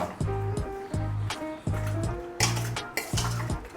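Pan dish with coriander leaves stirred in a metal pan, a spoon scraping and clanking against the metal in a steady rhythm of about six strokes, close and clear, with faint sizzling underneath.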